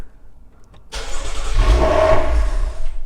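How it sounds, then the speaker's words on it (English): A BMW car engine cranks and catches about a second in, then settles into a steady, loud idle close by, continuing to the end with no voices. "I can still start the car"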